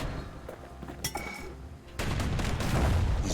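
A hand grenade in the game Bastion bursts with a sudden loud blast that rolls into a sustained, rumbling wash of debris and crackle, following a few lighter clinks and whooshes.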